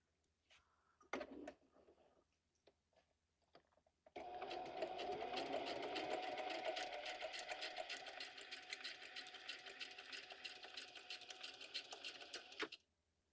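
A sewing machine stitches forward and then backward on a junk journal paper pocket, a steady whirring hum running for several seconds after a few faint clicks and handling sounds, then stopping abruptly.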